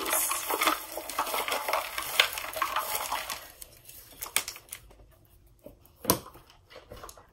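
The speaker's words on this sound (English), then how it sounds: "So while I'm shuffling these, it might be a little bit loud." A deck of cards being shuffled close by, a dense crackling riffle for a few seconds, followed by quieter rustling and a sharp snap near the end.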